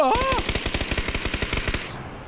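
Rapid automatic gunfire from the PUBG battle royale game rattles off in a steady burst of about a dozen evenly spaced shots, loud and close, after a brief rising tone at the start.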